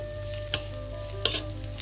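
Scrambled egg bhujiya with a pinch of salt frying in hot refined oil in a kadai, with a constant sizzle and two brief sharp scraping stirs, close and alone.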